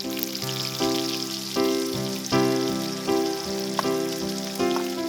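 Onion, chilli and garlic fry in oil in a wok, a loud, steady sizzle with a crackling hiss, overlaid by a series of tonal, ringing strokes that repeat roughly every second.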